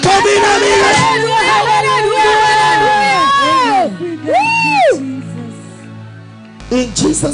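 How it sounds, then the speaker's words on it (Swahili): A church congregation claps and ululates for Jesus, loud crowd noise with high wavering trills and cheering rising over the babble, fading briefly near the end before another burst. "Waliyeko uwanja na mitandao, pigia Yesu makofi na vigelegele"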